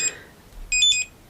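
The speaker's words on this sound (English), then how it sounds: "it will make some happy beeps" A barcode scanner beeping as it connects over a mini USB cable: one short electronic chirp, a pause, then a quick cluster of bright, close beeps.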